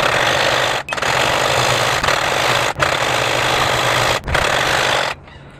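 A sewing machine runs steadily, stitching cloth for a Sikh kachhera, with a few brief pauses before the motor stops near the end; close and loud with no talk.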